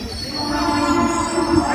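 A crowded passenger train runs along the rails with a close, continuous rumbling drone that stays steady for the brief moment.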